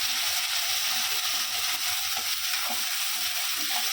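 Vegetables frying with spices in a pan, a constant loud hiss of sizzling oil with soft stirring scrapes and light taps of a spoon throughout.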